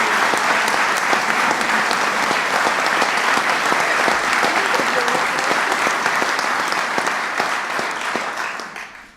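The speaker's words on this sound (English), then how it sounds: "a big round of applause" An audience claps steadily for legislators at a public lands bill signing by President Obama, a dense sustained round of applause that fades out near the end.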